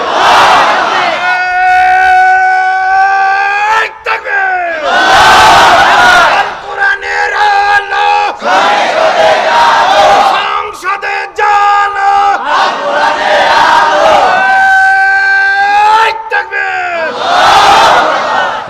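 A large crowd at a Bangla Islamic sermon chants takbir in loud, repeated unison shouts, several swelling rounds that rise and fall across the whole stretch, with a preacher's voice between them.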